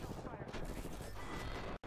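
Gunfire in a shooter video game, a dense, loud stream of rapid shots running almost continuously before cutting off abruptly near the end.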